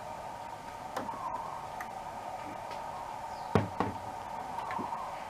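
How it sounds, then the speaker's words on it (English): The door panel of a Levoit air purifier is opened, giving a few sharp plastic clicks and knocks, one louder snap among lighter taps, over a steady hum with no talking. "Open this door panel."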